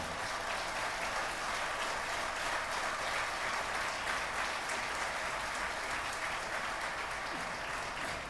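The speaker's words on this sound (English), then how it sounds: "Please give a round of applause to that most powerful." A large audience applauds at a talk show, a thick, even wash of clapping sustained at full strength for the whole stretch with no voices over it.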